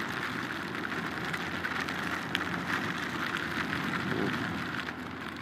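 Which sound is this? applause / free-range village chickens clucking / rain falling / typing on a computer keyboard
rain falling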